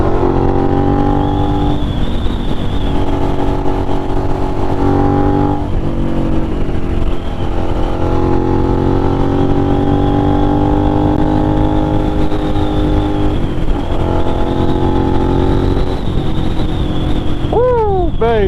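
Loud, close Suzuki SV650 motorcycle engine on an untuned night ride through NYC streets, revving and rising in pitch repeatedly, with steady drone between throttle blips and sharp revs near the end.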